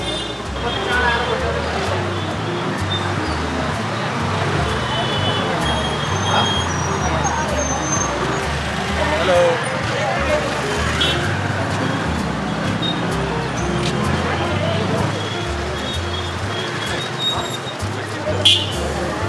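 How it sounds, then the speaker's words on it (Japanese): Busy street in Kathmandu where cars, motorbikes, cargo bicycles and pedestrians mix, giving a steady traffic roar with engine rumble, occasional horns and crowd murmur at close range. "ごった返す路地を行く人に車やバイク、荷運びの自転車が入り混じるこの光景"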